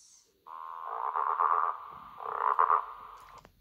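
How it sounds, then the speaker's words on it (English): A frog croaks in a long, loud, steady call made of two sustained stretches with a brief dip between, heard up close and alone with no talking. "frog, giraffe,"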